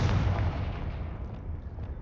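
A Confringo blasting spell in Hogwarts Legacy detonates in a loud, deep explosive boom that decays into a rumbling tail over two seconds.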